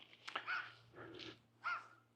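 A small dog barks in a few sharp yaps spread over a couple of seconds, fairly close, with a steady low hum underneath and no talk.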